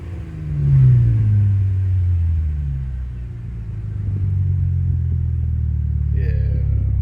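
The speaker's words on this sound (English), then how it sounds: "Yeah, I got to rev the engine one more time." A 3.6-liter car engine revs up strongly, then settles into a deep, steady rumble that swells again toward the end, heard close and loud.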